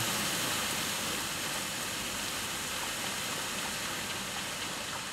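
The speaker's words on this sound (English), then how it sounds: "Waterfall's so loud." Loud waterfall in the video game Black Myth: Wukong, a dense, steady rushing roar of falling water filling the whole clip without pause.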